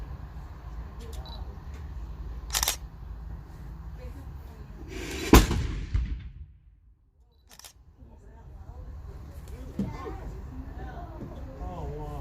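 A demonstration cannon fired by lighting a slow match to a quick-match fuse produces a single sharp blast mid-clip that fades into a brief hush, with people talking before and after.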